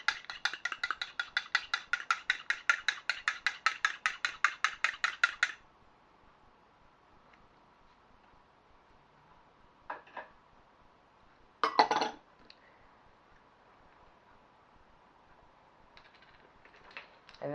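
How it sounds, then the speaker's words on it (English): A fork rapidly beats an egg in a bowl, a fast, steady clatter of close metallic ticks for several seconds, then stops, followed by a few isolated clinks. "And we're going to put in 1 egg. And we're going to beat this before we put it in."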